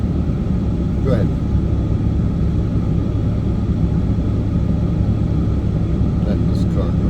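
A car passes along a plowed, snowy street, heard as a steady low rumble that lingers throughout at fairly high level, with a couple of faint brief higher noises near the start and end.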